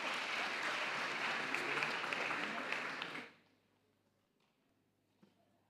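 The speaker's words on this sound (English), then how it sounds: "Let's clap for the Chief Whip of Council" Audience applause at a city council public consultation meeting, a dense crowd clapping loudly for about three seconds before stopping abruptly into near silence with a faint knock.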